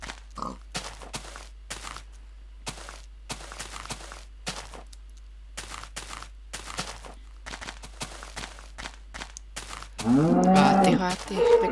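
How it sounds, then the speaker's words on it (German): A cow moos in the Minecraft video game near the end, a loud burst of lowing that comes after a stretch of intermittent gameplay sounds and quiet gaps. "Warte, eine Kuh."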